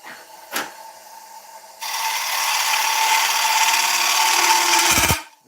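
A spindle gouge cuts into an oak bowl spinning on a woodturning lathe, giving a harsh, steady, close scraping roar for about three seconds, with a faint knock just before it and an abrupt stop.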